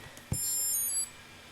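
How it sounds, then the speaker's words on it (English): A single short, high electronic beep from a Bluetooth tracker sounds after a faint button tap, brief and clear against a quiet background. "Okay, made a beep"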